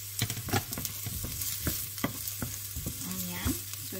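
Chopped vegetables frying and being stirred in a pan over medium heat, a steady close sizzle with scraping stir strokes and utensil clicks, no talking.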